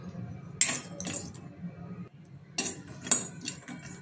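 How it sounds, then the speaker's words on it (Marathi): Cashews and almonds roasted dry in a hot kadhai, with a spoon clinking and scraping against the metal in short irregular strokes, close by and with no talk. "त्याच्यामध्ये मी काजू आणि बदाम भाजून घेते"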